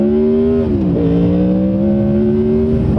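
A Honda VFR800 motorcycle accelerates at full throttle, its engine droning loud and close with rising pitch, dipping at a gear change and climbing again.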